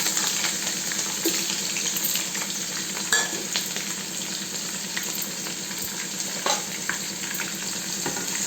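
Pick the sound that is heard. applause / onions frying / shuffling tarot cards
onions frying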